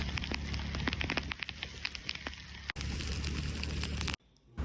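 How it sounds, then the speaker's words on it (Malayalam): Heavy rain pours steadily during a motorbike ride to the office, a dense continuous hiss with scattered drop impacts, loud and close, with no talking, cutting out abruptly near the end. "നല്ല മഴയാണ്."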